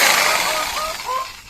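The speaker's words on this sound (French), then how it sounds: "il va tout simplement faire un trou avec la visseuse pour pouvoir insérer la lame de la" A cordless drill-driver bores a hole into a chicken coop that is being taken apart, giving a loud, steady whirring grind with faint motor whine throughout, no voices over it.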